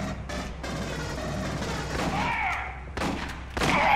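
Gunfire in the Aliens: Colonial Marines video game: a dense, rolling burst of rapid shots over several seconds, then a brief lull and a renewed volley at the end, loud and close.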